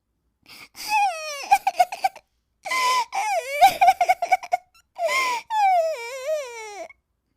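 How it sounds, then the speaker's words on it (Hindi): Cartoon child crying in a forest, loud wailing sobs in several bursts with short gaps between them, breaking into a drawn-out, quavering cry near the end. "इस जंगल में भला किसी के रोने की आवाज?"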